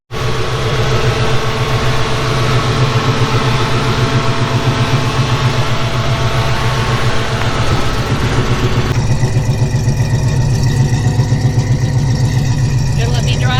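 A 1969 Ford Mustang's engine runs steadily throughout, a loud, deep, rumbling idle with a constant low throb that takes on a slightly rougher, more textured edge partway through, close and unbroken.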